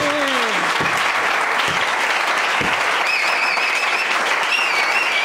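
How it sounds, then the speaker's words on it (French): A church congregation breaks into loud, sustained applause, with dense clapping filling the hall throughout and a few whistles and voices rising over it. "On acclame Jésus"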